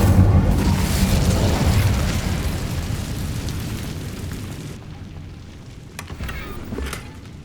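A burst of Incendio fire spell from Hogwarts Legacy roars loudly at first as a broad whooshing blast, then fades into a softer crackle with a few small pops near the end.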